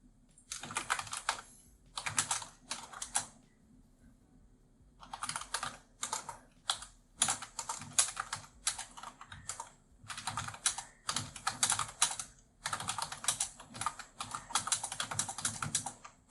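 Rapid typing on a computer keyboard, close and clear, in several bursts of quick key clicks separated by short pauses, with no voices.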